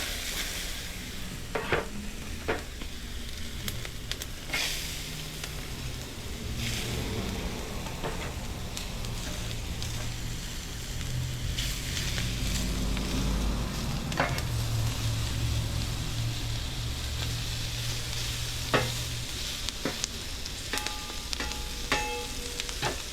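Peppers sizzling on a hot griddle alongside Italian sausage and onions, a steady frying crackle with intermittent scraping and stirring clicks of a spatula over a low background hum, no talking.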